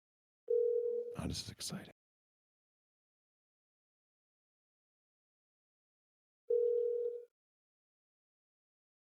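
A phone ringback tone sounds twice, a steady long beep near the start and another several seconds later, separated by silence, with a brief burst of voices in between.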